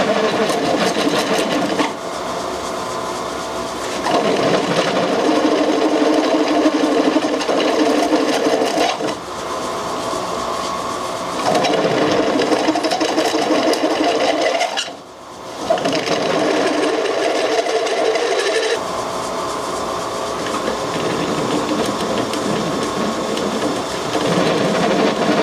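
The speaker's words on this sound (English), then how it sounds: "I didn't expect it to cut stainless as well as this." A step drill bores into stainless steel with a loud, continuous grinding whir that rises and dips in pressure across several long passes, with brief pauses between them.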